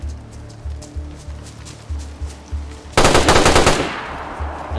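Machine gun fire in the DayZ video game: a rhythmic run of single shots, then a loud sustained burst of rapid automatic fire that fades out.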